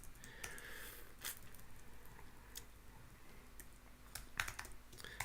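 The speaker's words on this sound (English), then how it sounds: "I've got fed up with typing answers every time." Quiet keystrokes tap on a computer keyboard in short irregular bursts and isolated clicks over a low background hum, with no talking.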